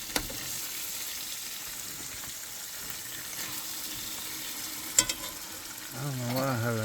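Food sizzles and spatters steadily in a pan on a stove inside a van, a dense crackling hiss throughout with a sharp pop near the end, then a faint tonal hum rising as it closes.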